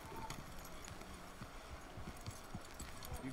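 Horse hooves clip-clopping at a walk in the video game Red Dead Redemption 2, faint and uneven steps over a quiet ambient background.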